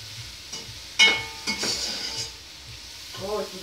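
A paprika dish being stirred in a pan, a few scraping and clinking strokes over a soft sizzle, close and fairly brief.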